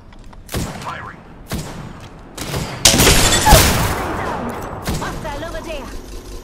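Gunfire in the battle royale game Apex Legends, with several sharp broadband shots and a dense burst of firing in the middle, followed by scattered reports, mixed with game sounds and a voice speaking.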